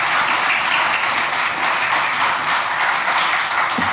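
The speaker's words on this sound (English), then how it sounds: "in the committee room, we don't applause and make noise" Steady, dense applause fills a state Senate committee room during an interim study hearing on the Oklahoma Turnpike Authority. The many hands keep a continuous, even roar with almost no talking.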